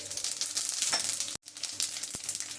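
Cumin seeds sizzle in hot cooking oil in a pan, a steady bright hiss with brief stirring clicks and a momentary break midway.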